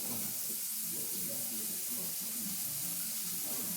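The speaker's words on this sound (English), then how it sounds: "that can go in the sink with some hot water" Hot water running from a tap into a kitchen sink during home pear canning, a steady soft broadband hiss that continues unbroken at a moderate distance with no voices over it.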